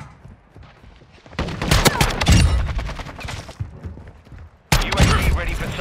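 A KV Broadside shotgun fires in Call of Duty MW2, loud heavy blasts in a cluster with thuds and shattering, then a quieter gap before another loud shot.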